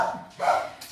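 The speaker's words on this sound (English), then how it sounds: "Dogs" Short dog barks in a garden, two or three quick yips close by, fairly quiet and alone without talk.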